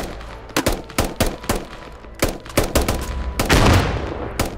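Rapid, irregular bursts of gunfire from the video game Squad, a dozen or so close, loud shots with a longer rumbling volley near the end, no voices.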